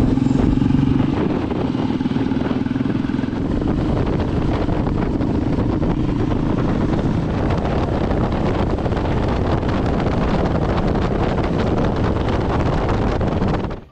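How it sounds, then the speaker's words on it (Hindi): Steady, roaring wind blast buffets the rider at high speed on a Royal Enfield Bullet 350 fitted with a windshield, a loud continuous rush with motorcycle engine drone beneath and no talking. "तो चलिए आपको भी वीडियो में दिखाता हूँ हाई स्पीड टेस्ट करके विंड ब्लास्ट कैसा,"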